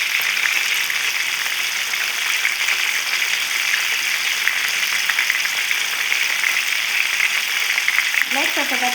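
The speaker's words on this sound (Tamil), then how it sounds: "நம்மளோட கோழி பார்த்திங்கன்னா நம்ம பொரிக்க போட்டாச்சு." Spicy garlic chicken deep fries in hot oil, giving off a constant close sizzle and crackle that holds steady throughout, and a brief voice is heard near the end.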